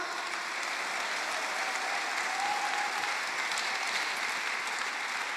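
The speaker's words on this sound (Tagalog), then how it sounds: "Kusog kapag palakpak." Sustained applause from a church congregation, dense and even clapping that holds steady for the whole stretch, moderately loud with no speech on top.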